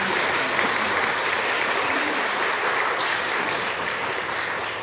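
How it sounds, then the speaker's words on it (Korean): A church congregation gives a big round of applause to welcome a returning member at a Sunday service, with steady, even clapping that fills the room and continues unbroken from start to finish. "우리 큰 박수로"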